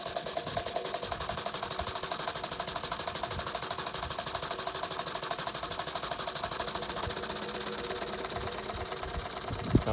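A 1953 Jensen 50 steam engine power plant runs under heavy load outdoors, a close, steady, rapid mechanical chuffing and clatter that continues evenly throughout.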